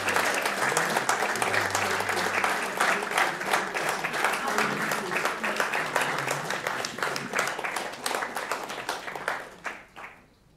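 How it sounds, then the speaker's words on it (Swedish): A crowd at a Catholic study Bible launch gives sustained applause, a thick steady clatter of many hands lasting about ten seconds before tapering quickly to near silence. "en stor applåd tycker jag vi ska ge er"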